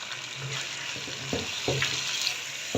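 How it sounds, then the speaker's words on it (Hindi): Cream frying into beef white korma in a pot, a soft steady sizzle with a few light stirring knocks, close and fairly quiet. "क्रीम शामिल करके मैं इसको मज़ीद 2 से 3 मिनट भूनूँगी"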